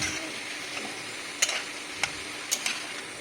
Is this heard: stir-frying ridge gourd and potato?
yes